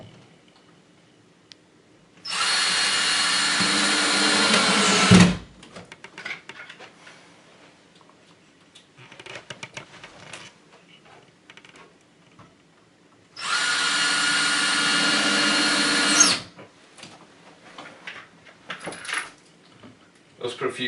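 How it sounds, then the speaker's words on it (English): A screw gun drives screws into a faux brick panel on a wall. Two sustained whirring bursts of about three seconds each are separated by handling clatter and quiet, up close. "grab our screw gun and secure this to the wall"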